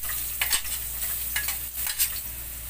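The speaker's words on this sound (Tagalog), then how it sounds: "magigisa na tayo yung sahog. Kunin natin yung ginger" Ginger sizzles as it is stirred in a hot pan, a steady frying hiss broken by a few scraping stirs, close by and with no one talking.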